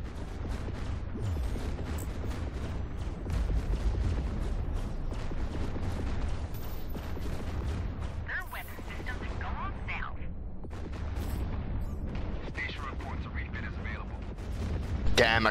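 Spaceship weapons firing in the space combat game Fractured Space: dense rapid bursts of gunfire and booming impacts, loud and nearly continuous, with players talking over the battle.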